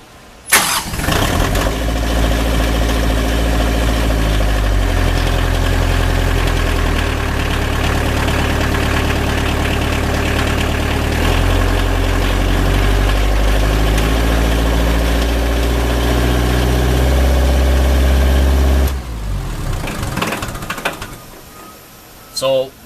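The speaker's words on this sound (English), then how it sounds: "So I'm going to have my assistant start the tractor." A Bobcat tractor engine cranks and catches, then settles into a loud, steady diesel idle with shifting tones for about twenty seconds before it cuts off abruptly.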